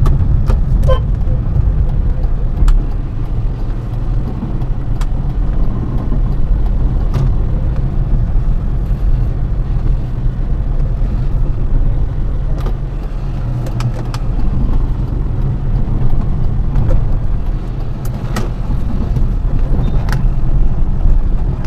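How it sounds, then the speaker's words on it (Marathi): Evening road traffic on the commute home from the office, a steady loud rumble of car engines passing close by, with occasional horn toots breaking through the continuous noise. "संध्याकाळी खूप ट्रॅफिक असते"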